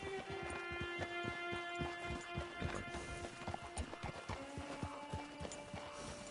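Horse hooves clip-clop at a steady walking pace in Red Dead Redemption 2, close and clear over sustained tonal game music, with no talking during the passage.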